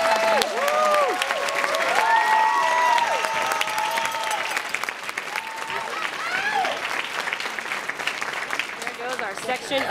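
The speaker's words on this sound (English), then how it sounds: "Please help me with a round of applause for everyone" A crowd at a band awards ceremony gives a round of applause, loud and dense at first and then thinning slightly, with shouts, cheers and whoops mixed in throughout.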